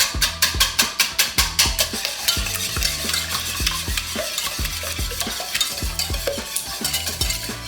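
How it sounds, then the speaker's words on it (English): Egg yolks whisked in a pot for a gluten-free lemon meringue pie, a quick rhythmic metallic tapping and scraping that is fast and loud at first, then steadier and slightly softer, with no talking. "save all the yolks into the pot. Now we're gonna whisk these until smooth"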